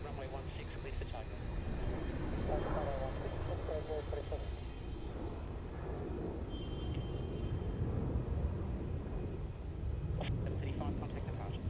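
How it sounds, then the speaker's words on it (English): A jet airliner at Melbourne Airport throttles up for takeoff from Runway 16, giving a steady, continuous broadband engine roar at moderate distance throughout, with faint voices and radio chatter underneath. "Runway 16, clear for takeoff."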